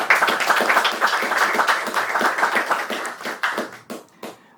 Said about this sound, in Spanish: Recibamos con un aplauso a...